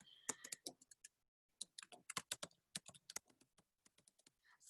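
Quick, irregular bursts of key clicks from someone typing on a computer keyboard, close and fairly quiet, with short pauses between runs of keystrokes.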